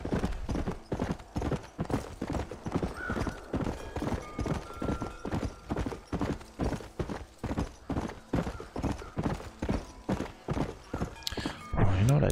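Horse hooves clip-clopping in the Red Dead Redemption video game: a steady, even trot of hoofbeats for twelve seconds with a short whinny near the end and speech over it.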